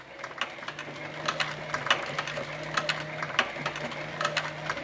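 A sewing machine stitches leather for a canteen, running in reverse to lock the stitch, with a steady close-up train of rapid mechanical clicks and a low motor hum across several short runs.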